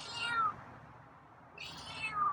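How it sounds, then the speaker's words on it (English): A scruffy feral cat meows twice, close by and fairly loud, with a quiet pause between the two drawn-out calls. "Yeah, you're meowing."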